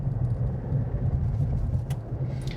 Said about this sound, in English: You can tell that it's a diesel. It definitely has more clatter than a standard Duramax V8.